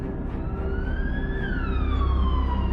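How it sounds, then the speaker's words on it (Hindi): An emergency siren wails alone, a single rising and falling tone sweeping up then gliding down over a low engine rumble, fairly loud and close throughout. "एम्बुलेंस सिटी हॉस्पिटल में पहुंची।"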